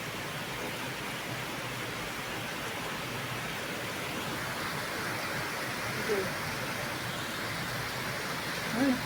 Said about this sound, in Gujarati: હો કેટલું અંધારું થઈ ગયું તો હજુ વરસાદ તો ચાલુ જ છે